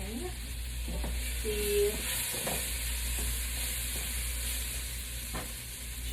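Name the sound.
ginger and garlic sizzling and stirred in pan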